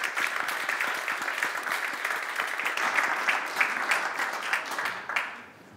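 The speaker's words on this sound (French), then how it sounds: "on peut l'applaudir" An audience applauds at a talk, dense and sustained clapping at moderate level that holds steady and then tapers off near the end, with faint voices underneath.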